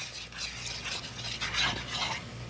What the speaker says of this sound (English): You want to put in maybe a cup, then whisk it in.